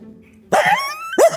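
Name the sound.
person imitating a dog barking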